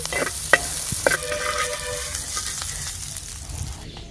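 Onions sizzle steadily in oil, close by, with a few clinks of a spoon stirring the pan near the start.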